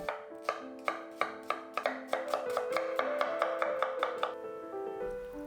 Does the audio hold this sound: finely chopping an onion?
yes